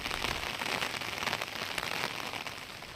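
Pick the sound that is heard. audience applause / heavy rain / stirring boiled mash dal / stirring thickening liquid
heavy rain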